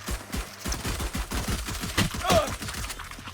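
Rapid gunfire in the Valorant video game, with a dense string of sharp shots crackling steadily across the clip in a prolonged firefight.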